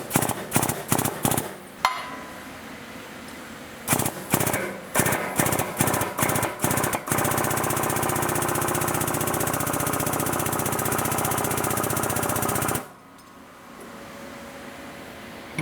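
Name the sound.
hydraulic press pushing a broach through a gear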